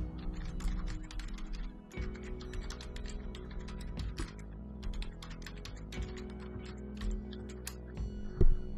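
Rapid, close keystrokes clatter on a computer keyboard while an email address and password are typed into a login form, with an uneven rhythm of clustered taps and short pauses and no voices.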